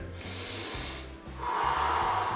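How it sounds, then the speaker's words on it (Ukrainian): A deep, breathy inhale during a thoracic spine exercise routine, rising in two hissing surges over a soft, pulsing musical backing. "Вдих."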